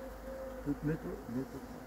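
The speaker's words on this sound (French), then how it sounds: "On voit ici les abeilles qui pillent" Honeybees robbing an abandoned hive buzz in a steady low drone, close by, with a few louder passes from individual bees.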